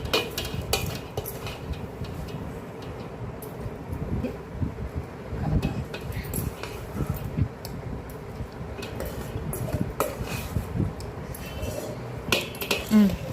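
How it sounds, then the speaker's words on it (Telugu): Spoon scraping and clinking against a pot as masala is mixed into cooked rice for Karnataka-style brinjal rice (vangi bath), a steady run of close, uneven stirring knocks with no talking. "బాగా మసాలా అంతా వేసి అన్నంలో బాగా కలిసేటట్టు కలపాలి."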